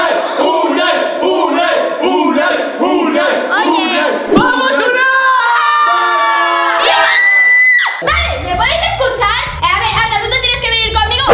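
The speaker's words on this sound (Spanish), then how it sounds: "Aquí chillando es todo Unai." Crowd of people, including children, shouting and cheering loudly and continuously at a motorcycle race, with excited voices calling out over one another near the microphone.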